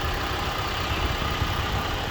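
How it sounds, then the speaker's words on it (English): A 2024 Toyota Highlander's turbocharged four-cylinder engine idles with a steady, even hum and rumble throughout, and no voices are heard. "No, it's 4-cylinder engine with a turbo."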